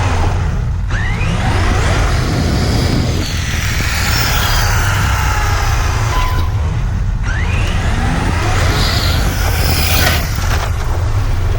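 An Arrma Mojave RC car with a blown-out front tire drives close by with a loud, continuous motor whine that rises and falls in pitch as it speeds up and slows down.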